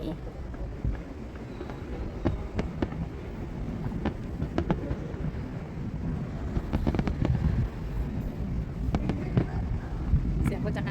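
Fireworks bang and crackle in a steady stream of sharp bursts close by at the Pattaya International Fireworks Festival, over a constant rumbling background with crowd noise.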